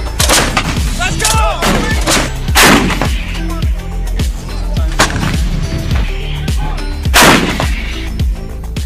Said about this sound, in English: once that first round goes off and you hear that boom